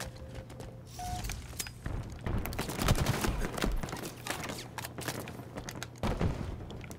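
Halo Infinite multiplayer firefight: rapid bursts of gunfire crackle repeatedly over steady mechanical background, moderately loud throughout with brief pauses.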